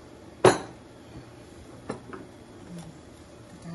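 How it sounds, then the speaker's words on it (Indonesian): A spoon or ladle stirring soup in a metal pot, making one sharp clink followed by lighter scattered taps and scrapes against the pot, close by and with no voices. "Dan kita kacau."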